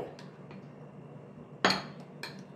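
Boiled potato and chhana being mixed with salt in a bowl, heard as a few scattered scrapes and one sharp clink of a utensil against the bowl in a quiet room.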